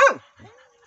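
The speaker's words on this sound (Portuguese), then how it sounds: "Os cachorros já estão acuados ali em cima, viu?" Hunting dogs bay an armadillo, giving one sharp close bark followed by softer whimpering yips in quick succession.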